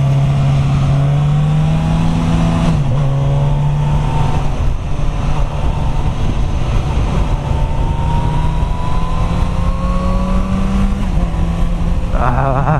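A Suzuki GSX S1000F rides at speed through the gears, its engine note climbing and dropping with each shift under constant loud wind and road roar.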